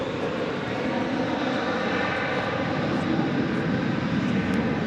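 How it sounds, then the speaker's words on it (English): An American Airlines jet takes off from DFW Airport bound for Seattle at night, a steady, broad engine roar that stays loud and even throughout. "As we watch American Flight"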